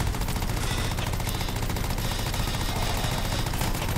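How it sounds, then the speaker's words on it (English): Rapid, continuous gunfire from the Anthem video game, a dense unbroken stream of shots held loud and close for the whole stretch, with no talk over it. "Come on, I'm shooting his arm."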